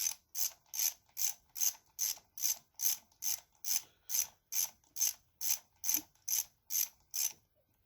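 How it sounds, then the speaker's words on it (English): Repeated ratcheting on the clutch bolts of a Suzuki GSX-R 1000, tightened in a crisscross pattern: about sixteen even, crisp clicking bursts in steady rhythm, close and fairly quiet, with no voices. "I like to tighten these in the crisscross pattern"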